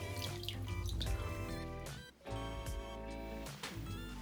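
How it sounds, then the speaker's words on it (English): Soaked blossoms squeezed by hand to press out excess water while making a Japanese appetizer. Close, soft trickling and dripping water runs through the clip, with a brief pause in the middle. "I remove them from the water and squeeze out the excess water too."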